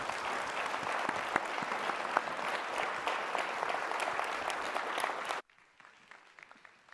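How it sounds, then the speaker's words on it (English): An audience at a Sydney innovation and research symposium gives warm, sustained applause as a panel leaves the stage, dense clapping filling the hall for about five seconds before it cuts off abruptly into quiet room tone. "ladies and gentlemen, would you clap our panel off the stage?"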